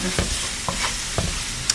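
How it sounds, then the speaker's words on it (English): Beef sizzles in a Pioneer Woman frying pan while a metal tool chops and stirs it, with soft scraping taps over a steady fry hiss, close and quiet, with no talking. "Chopping it, it's a little easier to chop with a metal tool than a wooden one"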